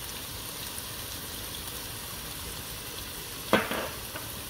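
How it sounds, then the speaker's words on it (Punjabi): Spice masala frying in oil in a pan gives a steady soft sizzle throughout, with a brief louder crackle and a scrape near the end. "ਚਲੋ ਜੀ, ਸਾਡਾ ਮਸਾਲਾ ਭੁੱਜ ਗਿਆ ਜੇ, ਤੇਲ ਛੱਡ ਦਿੱਤਾ ਮਸਾਲੇ ਨੇ।"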